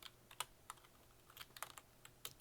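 Computer keyboard keys are pressed while playing the browser shooter Krunker, a quiet, close scatter of separate clicks and short bursts with no talking.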